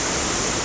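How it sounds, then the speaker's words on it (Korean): The Deokgu valley stream in Uljin rushes past in a loud, steady broadband roar of flowing water, a brief unbroken burst with no voices. "산을 울리는 듯한 물소리가 메아리치는 덕구 계곡에는"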